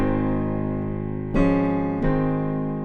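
Piano chords played low in the bass without a bouncing left thumb, one sustained chord followed by two more struck chords, each ringing and fading, with no voices.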